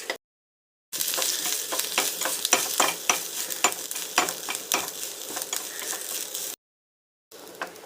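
Crushed pepper, cumin and garlic sauté with mustard seeds and curry leaves in a pan, giving a steady close sizzle broken by repeated scraping stir strokes, with short silent gaps at the start and end.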